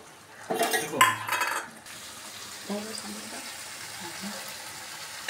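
Cashew and poppy seed paste being sautéed in a pan, with a burst of close metal spatula scraping and clatter in the first two seconds, then only faint stirring under a quiet voice.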